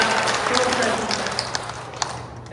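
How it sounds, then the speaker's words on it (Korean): A church congregation at a Catholic parish gathering gives a brief round of applause, a dense steady patter of many hands with a voice talking over it. "여러분 스스로를 박수 한번 쳐주세요."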